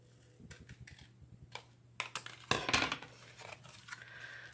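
Scissors snip through a handmade card in a few quiet, close cuts, with light paper rustling and handling noise between the sharper blade strokes.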